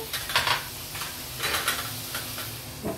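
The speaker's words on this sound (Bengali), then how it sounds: "এগুলো দিয়ে আমি মশলাটাকে ভালো করে কষিয়ে নেব।" Spice paste fries in a pan while being stirred, a steady sizzle broken by scraping strokes and light clinks of utensil on metal, close and moderately loud, with no voices.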